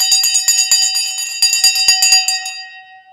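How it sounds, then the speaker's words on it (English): A stock market opening bell rings loudly and close, a rapid series of bright metallic strikes over about two and a half seconds that then fades away in a sustained ringing tone, with no talk. "The bell has now gone."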